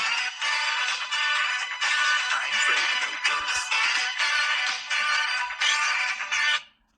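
A theme song plays loudly from a nearby speaker, continuous music with rhythmic bursts, for about six and a half seconds before cutting off abruptly.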